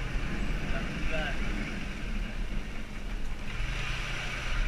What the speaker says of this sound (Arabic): دراجات النارية ما شاء الله منتشرة في هذا الشارع